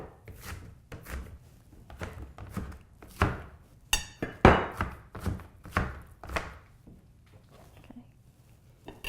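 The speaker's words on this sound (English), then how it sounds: "We'll give them another extra rough chop." Knife rough-chopping leftover onion and squash on a cutting board while making zucchini fritters, a run of a dozen or so close, uneven thunking chops with brief pauses between bursts.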